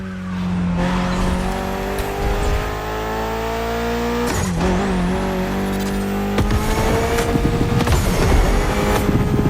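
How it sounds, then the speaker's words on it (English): Mitsubishi inline four-cylinder of about 280 horsepower in The Crew Motorfest gymkhana driving, revving loudly with rising and falling pitch, sharp shifts and long tire squeals and skids, close and continuous. "Mitsubishi gave us a nice inline four-cylinder with already 280 horsepower."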